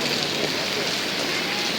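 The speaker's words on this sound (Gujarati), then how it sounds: "કેટલો વરસાદ આવતો હજી પણ" Steady, dense hiss of heavy rain pouring down close by, a continuous wash of drops with no pauses.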